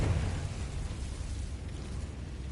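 A Confringo blasting spell from Hogwarts Legacy bursts in a loud, broad rumbling explosion that rolls on steadily with dense low crackle across the whole stretch.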